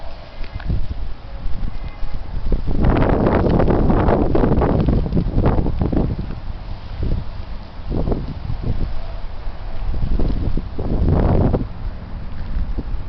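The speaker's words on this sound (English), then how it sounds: "Here it is. The heavy wind." Heavy wind blowing outdoors as snow approaches, roaring gusts that swell and buffet the microphone in repeated surges, loud and close with no talk.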